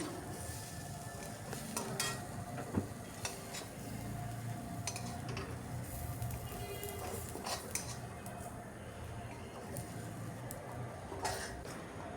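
Fish curry masala for a Kerala-style fish dish being sautéed in a pan, with a steady soft sizzle beneath frequent metal clinks and scraping stirs of a spoon against the pan.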